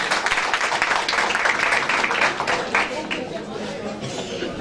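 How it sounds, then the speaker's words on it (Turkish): Applause and chatter rise from the audience at a CHP political rally, a dense, crowded clatter of clapping that is strongest early and then thins out toward the end. "Sayın Genel Başkanıma bu alkış."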